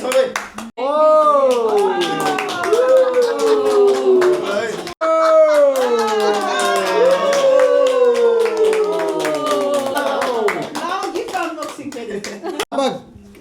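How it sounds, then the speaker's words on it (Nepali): Family members clap together at a Mother's Day celebration at home, scattered hand claps running under loud, continuous talking and singing voices throughout. "ताली बजाउँ, ताली ताली सबै"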